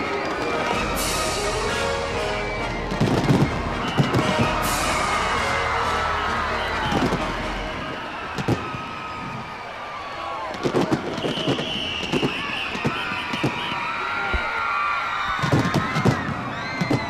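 Fireworks burst at a national day celebration in Singapore, sharp cracks and pops scattered irregularly over a crowd's murmur and cheering, with whistling trails rising between the louder blasts.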